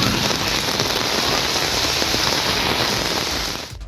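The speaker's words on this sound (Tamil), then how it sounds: "இந்நிலையில் மாலையில் கருமேகங்கள் சூழ்ந்து கனமழை கொட்டி தீர்த்தது." Heavy evening downpour from dark clouds, dense loud hiss of rain pounding surfaces, steady and unbroken until it fades at the very end.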